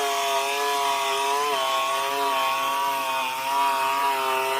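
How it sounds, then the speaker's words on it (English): An electric turkey carving knife slices through foam for a large gingerbread house, its buzzing reciprocating blade humming steadily with a slightly wavering pitch, loud and close, with no speech. "why don't you grab the turkey cutter? It's exactly what works the best."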